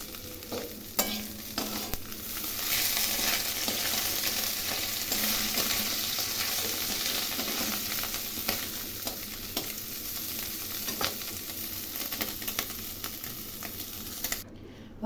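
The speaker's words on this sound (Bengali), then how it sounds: "ওই তেলের মধ্যে শুকনো লঙ্কা, কাঁচা লঙ্কা ও পাঁচফোড়ন দিলাম।" Dried red chillies, green chillies and five-spice seeds frying in hot oil after fish, giving a continuous crackling sizzle of moderate loudness with a few stirring clicks.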